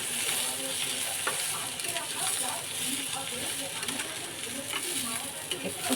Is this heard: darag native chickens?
no